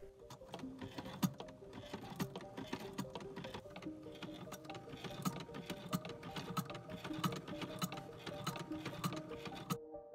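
A non-electric sewing machine stitching flannel petticoat seams, its needle mechanism ticking in a fast steady rhythm with faint metallic clatter, close and fairly quiet.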